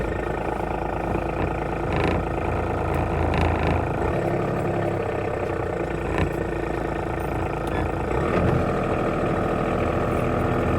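A vehicle engine runs steadily near a cattle fence being built with Clipex fencing, a constant low rumble with a few brief knocks and clanks over it and no talk.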